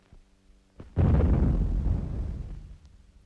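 An explosive shot fired underground in a coal mine goes off as a deep, muffled boom with a long rumbling decay, preceded by a couple of faint knocks, heard from a distance on an old black-and-white film soundtrack.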